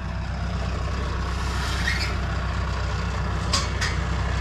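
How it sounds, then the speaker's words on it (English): A Rayco RG74T-R stump grinder with a 70 hp Cummins diesel engine runs with a steady, loud low rumble, and a couple of short sharp hissing bursts come near the end. "70 horsepower Cummins diesel command cut is the name of the machine"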